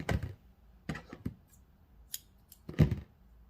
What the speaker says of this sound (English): cut off your extra thread